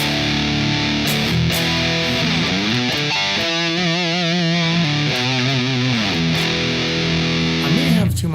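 Heavily distorted electric guitar through amp simulation plays sustained chords with wavering vibrato in the middle, loud and saturated throughout.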